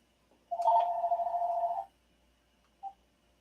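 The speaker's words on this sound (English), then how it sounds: "if my phone keep on ringing, I don't know why this thing is ringing" A single electronic phone ring trills for about a second in a quiet room, followed by a short faint blip.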